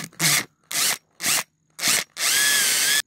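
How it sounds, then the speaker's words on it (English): A power drill whirs in four short bursts with pauses between while drilling a hole into the top of a battery terminal, then runs for a longer final stretch, close and loud. "But you drill a hole"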